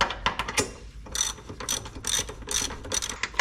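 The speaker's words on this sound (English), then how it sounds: "Now let's see if we can get this one to crank down." A ratchet wrench cranks down a running board mounting bolt on a 2005 Nissan Titan, sounding as a series of close, loud clicking bursts in quick strokes with brief pauses between them and no talking.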